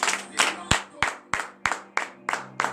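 During morning prayer, a church congregation claps in a steady rhythm, about eight sharp, loud claps in a row with a voice humming along underneath and no clear cheering.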